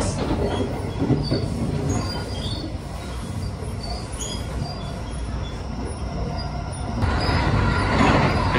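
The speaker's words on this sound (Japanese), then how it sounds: "特急しらさぎは北陸本線をずっと、ね、走行していきます。" The limited express Shirasagi runs along the Hokuriku Main Line, heard from inside as a loud continuous rumble of wheels on rail with squeals, rhythmic clatter and a surge near the end.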